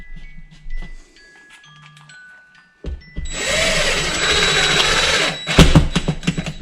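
Cordless power drill driving screws into a drywall patch during a sheetrock hole repair: after quiet handling clicks, a steady whirring drill run of a few seconds, close and loud, ending with a brief burst and rattle.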